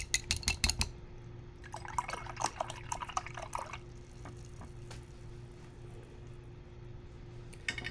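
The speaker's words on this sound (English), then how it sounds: "Okay, I'm going to wash my brush." Paintbrush being rinsed in a water jar during acrylic painting: a few close sloshing, dripping splashes near the start, then quieter swishing and faint clinks fading into a low steady hum.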